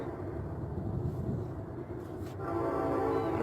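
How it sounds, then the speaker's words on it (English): A train about a mile away running through Kendallville at around 60 mph, a steady distant rumble that swells slightly toward the end, with no talking. "I don't know if you can hear the train."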